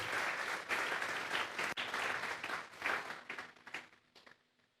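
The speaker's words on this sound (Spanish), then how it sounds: "Dele fuerte esas palmas al Dios de la gloria." Churchgoers clap hard during a sermon in a congregation, a dense burst of applause that swells, then thins into scattered claps and fades out toward the end.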